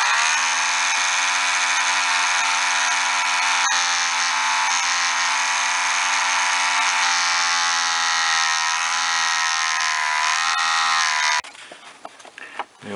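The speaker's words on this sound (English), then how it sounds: "So I'll drill up his arm in both ways." A power drill whines at a constant high pitch for about eleven seconds, drilling into the arm of a small HO-scale model figure, then stops, followed by a few clunks and handling noises.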